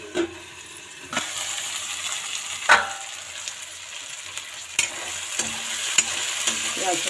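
Ingredients lightly roasting in a pan for white chickpea and potato curry, a soft sizzle broken by sharp spatula scrapes and clinks against the pan, close and alone without talk.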